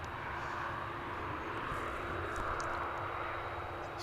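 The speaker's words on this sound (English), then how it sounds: "Here goes an Embraer 175 off to Corpus Christi," Embraer 175 jet departing Dallas Fort Worth Airport for Corpus Christi, Texas, heard as a faint, steady distant engine roar with broad hiss and no talk over it.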